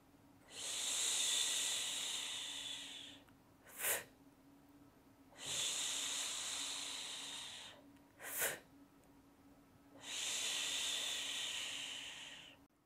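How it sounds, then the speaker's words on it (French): Slow, prolonged exhales voiced as a soft 'shh' during a relaxed breathing exercise, three long hissing breaths of about two to three seconds each, close and clear, separated by short sharp inhales and quiet pauses. "Expire en disant « chut » doucement de façon prolongée."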